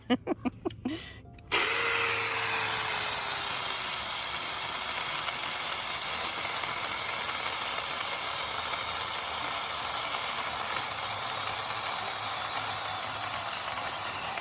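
A Saker 4-inch mini chainsaw cutting: a few brief clicks give way to a loud, sustained high-pitched motor whine that runs nearby and unbroken to the end.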